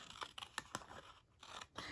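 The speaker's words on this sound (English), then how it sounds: "Grab a piece or a set of your scissors. You're going to cut this off." Scissors snipping through a 6x6 sheet of patterned card-making paper, a quick run of crisp close cuts with soft paper rustle between them, faint and alone.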